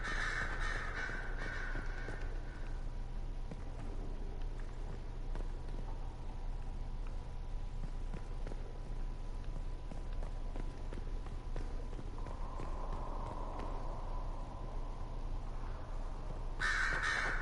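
Crows caw repeatedly from the ambient soundscape of Dragon Age: Inquisition, with clear calls at the start and end over a low steady background hum and faint footsteps.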